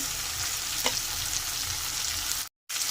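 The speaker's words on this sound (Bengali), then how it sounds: "এবার আমি দু চামচ আদা রসুন বাটা দিয়ে দিলাম এটাকেও ভালো করে আমি ভেজে নেব" Ginger-garlic paste fries in a pan with a steady, bright sizzle throughout, one brief stir scrape near the start, and a sudden momentary dropout before the sizzle resumes.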